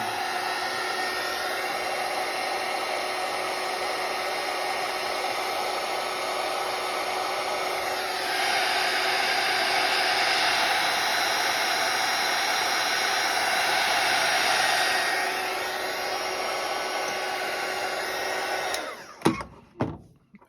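A heat gun blows hot air over a Barrina T5 LED light under repair, a steady loud whooshing roar that grows stronger midway, eases back, then cuts off, followed by a few clicks and knocks.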